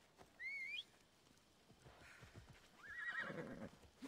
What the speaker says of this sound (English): My magical horse.